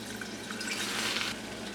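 Almond milk poured in a small splash into a thick homemade cream-of soup base made with flour: a soft, steady liquid trickle, quiet and close, lasting under two seconds with no talking.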